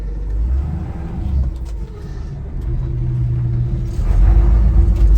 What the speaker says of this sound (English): I got just a hair of a clutch chatter right there